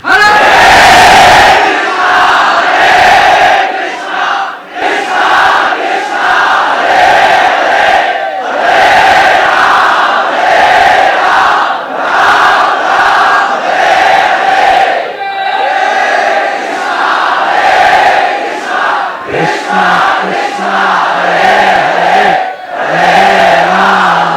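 A large devotional crowd at a festival for Lord Nityananda's appearance chants loudly in unison, a dense rhythmic roar of many voices that surges and dips continuously and fills the space for the whole stretch.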